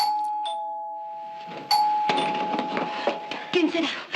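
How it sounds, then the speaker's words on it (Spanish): A doorbell chimes twice near the start, its tones ringing out and lingering, followed by busy household noise and a voice in the background. "llamaron al timbre."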